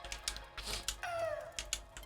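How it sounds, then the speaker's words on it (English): Quick clacky keystrokes on a mechanical keyboard, a short irregular burst of taps, close and fairly quiet, with a brief faint squeak partway through. "I've got one of those big clacky mechanical keyboards."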